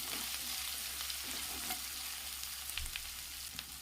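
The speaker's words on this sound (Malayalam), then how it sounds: "നമുക്കിതൊന്ന് വഴറ്റിയെടുക്കാം." Shallots and green chillies sauté in coconut oil for a Kerala brinjal curry, giving a steady close hiss of frying with a few clicks and scrapes of stirring throughout, no voices.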